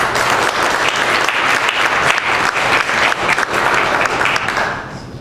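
Steady, loud audience applause filling a conference hall as speaker Terji Nielsen is welcomed to a renewable energy session, sustained clapping that fades away near the end.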